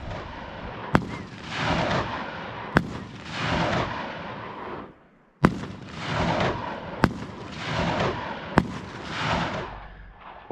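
Fireworks booming in the distance outdoors in Arizona, a series of sharp bangs each followed by long rumbling, crackling tails, loud and irregularly spaced.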